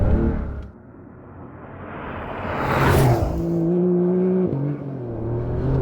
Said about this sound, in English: driving across a sand dune in a 911